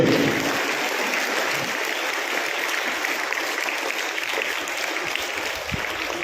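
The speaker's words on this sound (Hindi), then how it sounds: "ये सारे बच्चे एक बार जोरदार तालियां बज दीजिए।" Sustained loud applause from an audience at a school award ceremony, a steady wash of many hands clapping that neither builds nor fades and has no speech on top.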